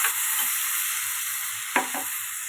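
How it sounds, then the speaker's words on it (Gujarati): Ginger, chili and tomato gravy hitting hot oil for tempering, a loud, steady close-up sizzle with two brief sharper bursts near the end. "આદુ મરચું અને ટમેટાની ગ્રેવી છે એનાથી આપણે વઘાર કરશું"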